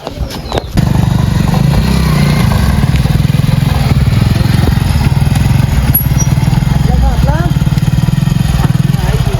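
A motorcycle engine runs steadily and loudly throughout, a continuous close drone with rough clatter, while people talk over it.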